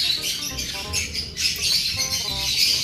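A group of pet birds chirps and squawks close by in a lively, overlapping chorus of bright calls, with a low background hum underneath.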